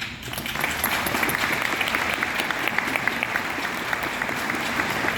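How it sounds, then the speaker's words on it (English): An audience at a large community organizing assembly on affordable housing gives dense, sustained applause that holds steady throughout, with no voices over it. "let me hear your applause"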